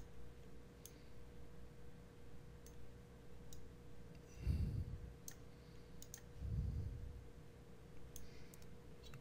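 Faint, sparse mouse clicks on a computer while modeling a tulip in The Plant Factory software, scattered single taps over a steady low hum, with two soft low thumps in the middle.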